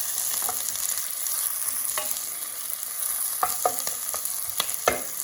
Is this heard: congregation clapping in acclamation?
no